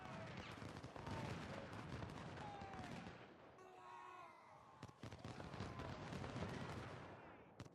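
A 24-pound howitzer fires in a Civil War battle video game, with several sharp booming shots and crackling bursts amid a busy battlefield din, at low overall level.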